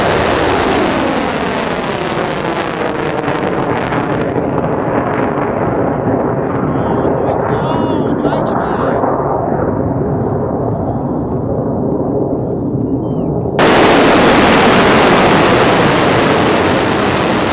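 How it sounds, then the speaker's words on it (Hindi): A Kheibar Shekan missile launch roars with a loud, continuous broadband rocket blast that stays dense and powerful throughout, slowly thinning as the missile climbs, before a sudden cut to another equally loud roaring section. "پرتاب موشک خیبرشکن با رمز مقدس یا فاطمه الزهرا"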